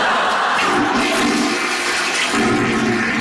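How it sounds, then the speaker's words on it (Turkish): A toilet flushes loudly and close by, a continuous rush of water lasting a few seconds, with no voices over it. "Kendi kendine sifonu çekiyor."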